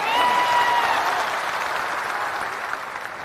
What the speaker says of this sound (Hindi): एक बार जोरदार ताली से इनका स्वागत कीजिए।